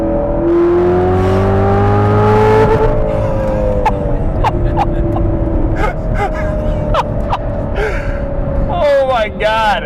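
A 2019 Chevrolet Corvette ZR1 engine revs and climbs in pitch, loud and close, then settles into a rumble as a voice gasps and exclaims over it.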